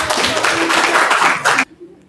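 A classroom audience applauds after a group presentation, a burst of many hands clapping that cuts off abruptly into near silence.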